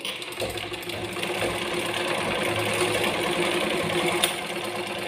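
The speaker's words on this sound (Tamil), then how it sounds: "மிஷினில் சவுண்டு வந்துருச்சு" A sewing machine runs continuously with a thread problem at the bobbin, giving a steady close mechanical whirr and rattle with an even hum underneath and one short sharp click near the end.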